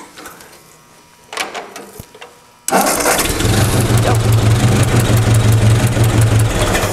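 An engine cranks briefly, catches and starts abruptly, then settles into a loud, steady idle that continues to the end.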